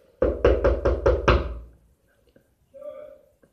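Six quick knocks on a bedroom door, loud and evenly spaced, followed by a short pause and a faint voice.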